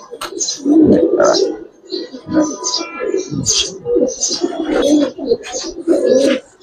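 Giribaz and coloring pigeons coo in soft, low bursts while someone talks over them throughout, the birds' murmurs mixed under the speech.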